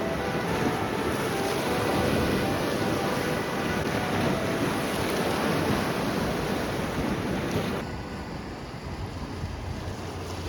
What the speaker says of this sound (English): sit out on the rocks and watch the waves come in